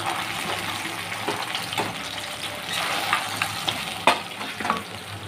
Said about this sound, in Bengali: আর একটা পিঠ ভালো করে ভাজা হলে তারপরেই কিন্তু মাছটা উল্টে দিতে হবে।